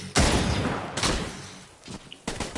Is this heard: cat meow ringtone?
no